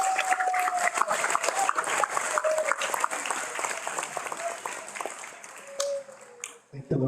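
Loud, continuous crowd applause for the graduating class at a 2023 commencement ceremony, with sharp individual claps, scattered cheers and a tonal whistle-like sound running under it.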